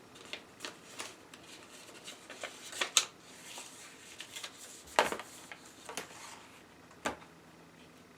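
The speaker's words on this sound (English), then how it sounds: "I'm going to cut this excess seam allowance" Scissors trimming excess seam allowance on a paper-pieced quilt block, a string of soft close snips and paper rustles at an irregular pace in a quiet room.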